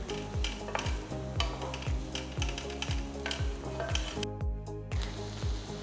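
Chopped onions and slit green chilies fry steadily in a pan, a close, continuous sizzle with a low rhythmic thumping pattern running beneath it throughout.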